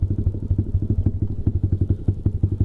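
A motorcycle engine starts and settles into a steady, close, lumpy idle with rhythmic thumping pulses, loud and alone for under three seconds.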